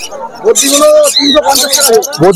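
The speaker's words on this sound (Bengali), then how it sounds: "দেখুন আর এই বদ্রিগুলো" Budgerigars in pet-market cages chirp in quick, high twitters, mixed with steady nearby talking that largely masks the birds.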